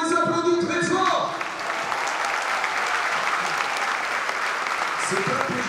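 At the Aviron Bayonnais rugby squad presentation for the 2025/2026 season, supporters loudly applaud the players. An announcer's amplified voice briefly opens the moment before the crowd's steady clapping fills the rest.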